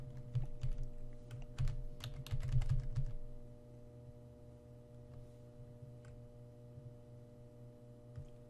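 Quick, irregular clicks of typing on a computer keyboard over a low steady hum during an algebra lesson on powers of i; bursts of keystrokes at first, then sparse taps over the hum.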